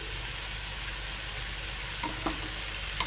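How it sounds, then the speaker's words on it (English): Tomato puree hits a hot pan while making McPuff-style pizza pockets, producing a steady broad sizzle of frying with a few faint clinks of a spoon stirring near the end. "I'm adding the tomato puree."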